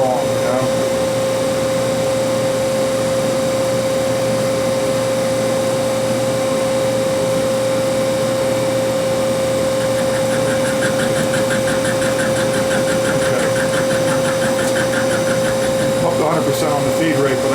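A Hardinge CNC lathe spindle turns at normal speed, a steady machine hum with a strong constant whine, running continuously and fairly loud, with extra high chattering from the machine near the end.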